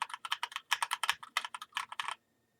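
Bursts of keystrokes on a MagicForce 68 mechanical keyboard with Gateron Clear switches, close and crisp, typed in quick uneven runs for about two seconds before stopping.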